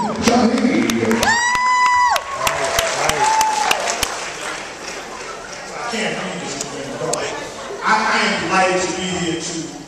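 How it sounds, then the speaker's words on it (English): A crowd applauds and cheers at a red-carpet movie premiere, with steady clapping and whoops running throughout and a voice talking over the noise. "Give a round of applause, ladies and gentlemen."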